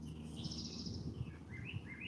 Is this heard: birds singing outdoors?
yes